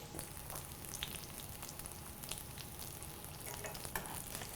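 Turkey schnitzel frying in a hot pan gives a steady, quiet sizzle with faint crackles and small pops scattered through it. No one speaks.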